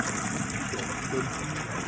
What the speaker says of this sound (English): How the water is actually going in.